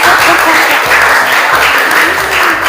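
A high school class claps after a group presentation in an Indonesian language lesson, producing a loud, dense, continuous round of applause that fills the room from start to finish.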